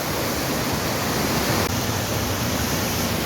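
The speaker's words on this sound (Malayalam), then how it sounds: "ഇത് വളരെ വെറൈറ്റി ഒരു വെള്ളച്ചാട്ടമാണ്" A small waterfall in a cool, scenic spot keeps up a constant broadband rush of falling water. The sound stays loud and even throughout, with no voices.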